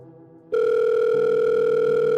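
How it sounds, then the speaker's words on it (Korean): A steady electronic telephone ringback tone, heard through a lifted receiver, starts abruptly and holds at constant loudness, preceded by a softer lower hum. "통화 연결음이 흘러갔고"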